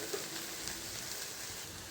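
Onions for a fish curry fry in a pan with a soft, steady sizzle and crackle, faint and continuous without talk.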